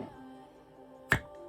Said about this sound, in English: let's open it, and you can wait for the sound when the air comes out of it